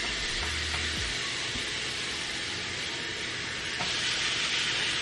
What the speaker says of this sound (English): I'm going to allow these to sear for a few minutes and then I'll turn them over.